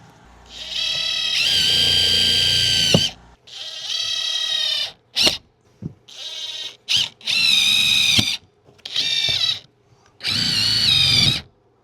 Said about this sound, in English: I'm gonna start screwing in from down here and I'm gonna work my way that direction.